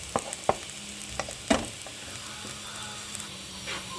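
Ground garam masala frying in hot white oil for a meat curry, a soft steady sizzle punctuated by a few sharp spoon clinks and stirring taps against the pan, close, without speech.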